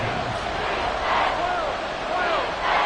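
A stadium crowd roars loudly and steadily at a football game, swelling in waves as the home fans try to force a false start, with a commentator talking over the noise.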